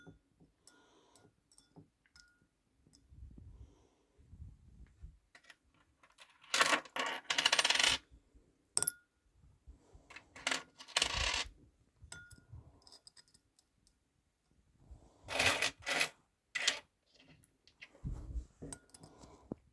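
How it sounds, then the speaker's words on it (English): Small copper coins drop and clatter into a dish of salt and vinegar, with several bursts of loud metallic jingling and rattling separated by quieter handling clicks and taps. "So if I put all the little copper coins in there,"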